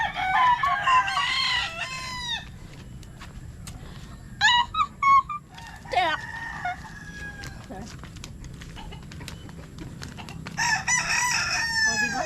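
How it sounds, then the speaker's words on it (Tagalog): Chickens and a rooster at a farmyard with many birds, crowing and clucking loudly in bursts at the start, middle and end, with people talking briefly in between. "Ang dami nila dito ang manok."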